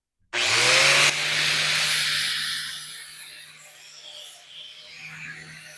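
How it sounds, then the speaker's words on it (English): An 80 grit flap disc on an angle grinder smooths a metal sharpening tool rest, starting abruptly with a loud harsh grind that eases into a steady whine and fades as the disc winds down, with no talk. "I'm just going to take the 80 grit flap disc and smooth it out a bit more"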